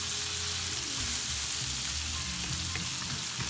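Onions frying in a pan for a French dip steak sandwich, a steady close sizzle with faint stirring and crackle running through the whole stretch.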